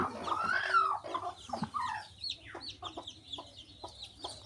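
Chickens cluck and squawk nearby in a busy, uneven series of short calls, one louder squawk early on, with a faint hum underneath.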